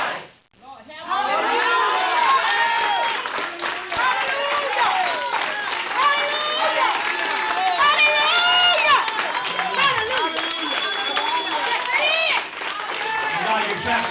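A church congregation claps and cheers loudly and continuously, with voices shouting and singing over the dense clapping throughout.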